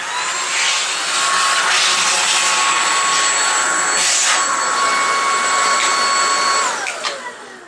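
A Powerffy cordless vacuum cleaner runs at full power with a loud, steady whine and whoosh that holds for about seven seconds, then spins down at the end.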